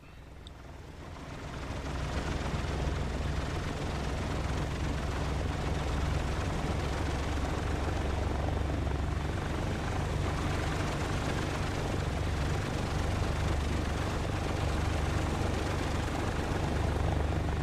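The engines of a Douglas DC-3 warm up at 1,000 RPM in Microsoft Flight Simulator, producing a loud, steady piston drone with a deep throbbing rumble. The sound swells up within the first two seconds, then holds constant.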